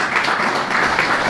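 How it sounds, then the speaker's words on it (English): An audience at a coaching conference applauds a former Cork manager, a brief burst of dense, even clapping from a room full of people. "So a round of applause,"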